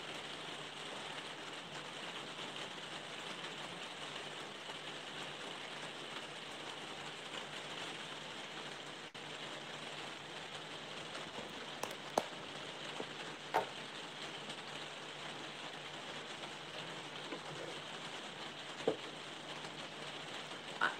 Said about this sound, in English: So you're going to have to listen to the rain.